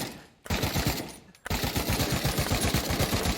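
AK rifle firing on full auto in a VR shooter game, a dense, loud rapid burst that cuts out briefly and then resumes as a sustained, continuous stream of shots.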